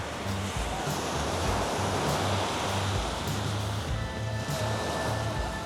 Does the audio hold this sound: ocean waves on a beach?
yes